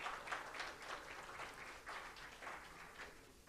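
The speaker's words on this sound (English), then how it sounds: "Please give a hand of applause to all of you." Audience applause at a learning program event, a steady wash of clapping from many hands that holds through and fades slightly at the end.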